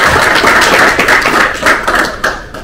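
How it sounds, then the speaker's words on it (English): An audience applauds panelists at the close of a hydrogen energy discussion, a dense, loud round of clapping with scattered sharper claps that carries on throughout. "If you can help me by thanking these panelists by giving them a round of applause."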